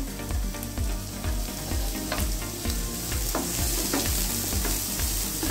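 Onions and chicken for a sandwich filling sautéing lightly in a pan, a steady close sizzle with a regular rhythm of spatula strokes scraping through, no voices.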